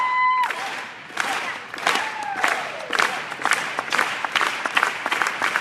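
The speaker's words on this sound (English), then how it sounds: "Okay, so let's do the clap." A summit audience clapping and cheering, with a dense burst of applause, whoops and shouts that rises after an opening tone and keeps going loud and lively, hands striking in quick irregular bursts.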